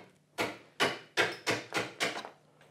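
A chisel held bevel up is struck six times in a steady rhythm while chopping into wood at a knife-walled gauge line for hand-cut joinery, each blow a sharp, close, loud knock with a short decaying ring.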